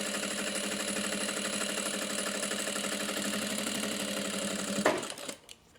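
A sewing machine stitches a tote bag seam in a fast, even mechanical whir with rapid needle rhythm, close and loud, then stops abruptly near the end, leaving a brief soft rustle.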